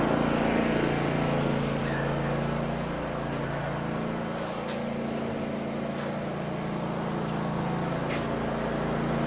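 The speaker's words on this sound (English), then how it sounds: "Also, a champion generator from Tractor Supply." A Champion portable generator from Tractor Supply runs at a barn, its engine holding a loud, steady drone without a break. No one speaks.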